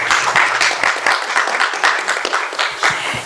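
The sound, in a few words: audience applause at book presentation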